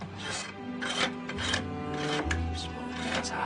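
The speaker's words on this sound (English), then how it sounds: "Need this scraper." A hand scraper drags across the wood of a carved doll in short, rasping strokes, several distinct scrapes repeating irregularly at close range.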